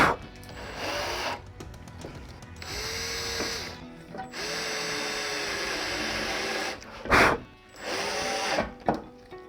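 A power drill drives screws into a metal hot box for an oven temperature controller, in several separate bursts of whirring, rising and stopping between pauses, close and clear.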